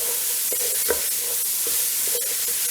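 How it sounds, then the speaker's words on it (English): Sausage with celery, onion and carrot frying in a soup pot for Tuscan lentil soup, a steady close sizzle under a few soft spoon scrapes as the mix is stirred, no talk. "Give it a stir."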